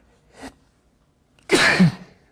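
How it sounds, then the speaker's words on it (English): A short inhaled gasp, a pause, then one loud, close sneeze. "Never sneeze into one of these caps."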